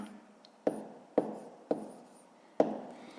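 Pen or chalk writing a math answer, heard as four sharp isolated taps and strokes spaced unevenly, each with a brief scratchy tail, close and fairly quiet in an otherwise still room.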